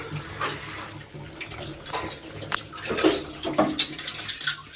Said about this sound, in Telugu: ఈమె గిన్నెలు కడుగుతూ ఉంది